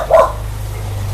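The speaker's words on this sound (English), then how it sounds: "Sorry about that. That's our dog." A house dog barks once, a short sharp bark indoors over a steady low hum.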